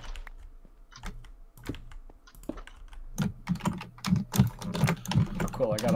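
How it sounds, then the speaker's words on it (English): Keys on a computer keyboard clatter in quick, uneven bursts during Minecraft play, sparse at first and then denser and louder, with faint talk underneath. "It literally sounds like you're fumbling your keyboard."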